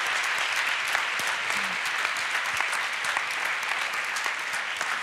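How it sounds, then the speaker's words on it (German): Sustained applause from a large audience at a university campus anniversary event, a dense steady patter of clapping filling the whole stretch at even loudness. "Und genau das, finde ich, hat nochmal einen extra Applaus verdient."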